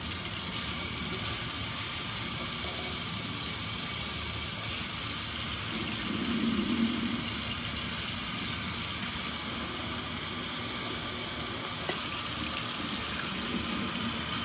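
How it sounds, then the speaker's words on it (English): Tap water running steadily into a sink to drain and rinse canned beans and corn, a continuous close splashing wash with slight shifts in flow, no talking. "I'm going to drain those off. And then we'll rinse them out a couple times."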